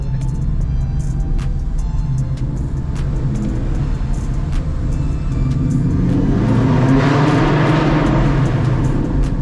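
A Ford Mustang engine revs up loudly and steadily to about 3,000 RPM, a deep rumbling roar that climbs in pitch toward the end, with no talking.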